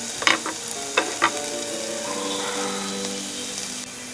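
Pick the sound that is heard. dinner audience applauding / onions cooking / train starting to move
onions cooking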